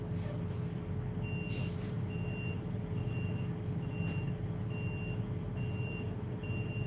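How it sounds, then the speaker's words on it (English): A truck's reversing beeper sounds at a truck stop off a Georgia interstate, faint and distant, pulsing in a regular rhythm over a constant idling engine rumble. "I hate when you got a beeper on a truck."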